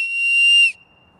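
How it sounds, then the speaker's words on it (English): A single loud, shrill whistle blast held for well under a second, then cut off abruptly into near silence. "We have an emergency whistle."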